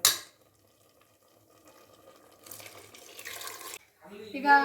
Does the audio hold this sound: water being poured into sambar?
yes